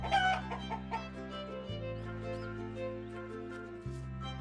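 Chickens cluck in the farming video game Summer in Mara, with several short, close clucks at the start and then softer ones over a steady, looping game music bed.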